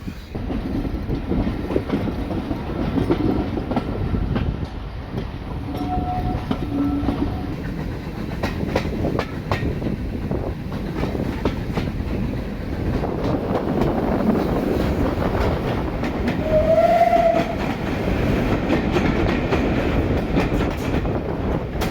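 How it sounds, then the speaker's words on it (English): A steam train rumbles steadily along a heritage railway toward Bury during a steam gala, with rhythmic clickety-clack and wind buffeting the microphone, and a brief whistle-like tone rises near the end. "As the train rumbles towards Bury"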